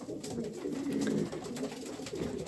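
Pigeons in a racing pigeon loft keep up a low, murmuring coo, faint and steady, with light rustling and no talk.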